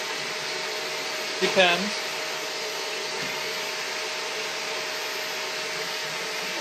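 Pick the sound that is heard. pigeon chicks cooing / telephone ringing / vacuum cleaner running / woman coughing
vacuum cleaner running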